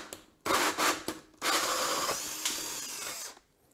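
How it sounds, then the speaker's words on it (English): A power drill enlarges a hole saw hole, guided by a template, with short whirring bursts followed by a longer continuous grinding run close by, then stopping. "Then we take our new drill, using our template as a guide, slip it in until it's touching there."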